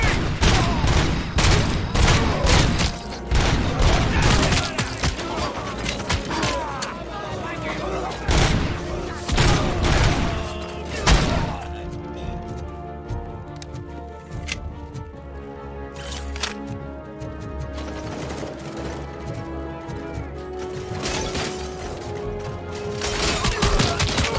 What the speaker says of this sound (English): Covering fire!